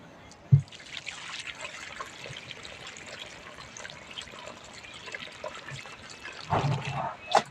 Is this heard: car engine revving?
no